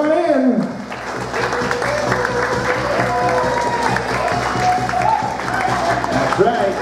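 Wedding reception guests clap steadily for the arriving wedding party while an announcer's voice and music run over the applause throughout.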